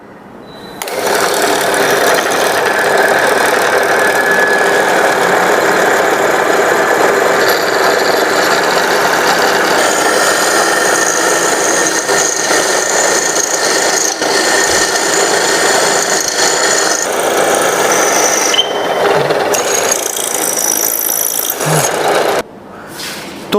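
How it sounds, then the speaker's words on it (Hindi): A twist drill bores a hole in a metal job on a fitter's workbench, giving a loud, steady mechanical whir that runs unbroken for about twenty seconds before cutting off, with no talking. "तो यहाँ हम देख रहे हैं कि ट्विस्ट ड्रिल के द्वारा इसमें होल किया गया है"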